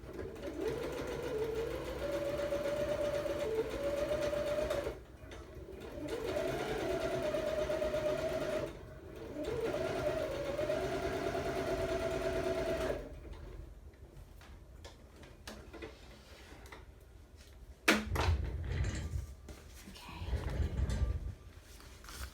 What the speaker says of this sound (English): let me just run to the sewing machine real quick and sew this